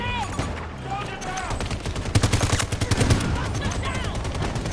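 Sniper and rapid automatic gunfire in Battlefield 2042, loud bursts of shots rattling in quick succession over game ambience, with a voice talking over the top.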